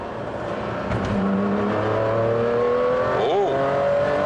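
A sports car engine in race mode revs up steadily, pitch climbing through the gears with a brief blip near the end, loud and close, no talking.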